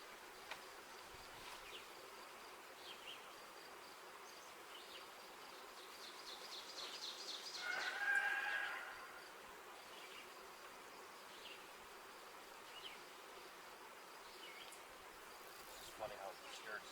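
Honey bee swarm droning steadily throughout, a continuous insect buzz that swells louder for a moment near the middle before settling back, heard outdoors with no talking.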